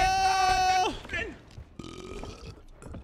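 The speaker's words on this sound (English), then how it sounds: "So glad they added that burp." A burp sound effect in the Sea of Thieves video game: one long, tonal, belching tone that bends downward at the end, followed by softer, scattered game noise.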